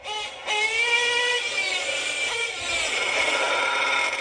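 An RC nitro engine fitted with a Kyosho MP9 TK14 carburetor runs close by with a high, buzzing, harmonic whine, revving up sharply near the start and holding a loud, steady drone.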